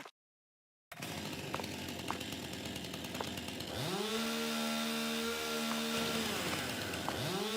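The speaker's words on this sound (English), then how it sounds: "got a chainsaw out" A chainsaw idles and revs in a multiplayer farming video game, a steady buzzing drone that rises into repeated swooping rev bursts in the second half, close and loud with no talk.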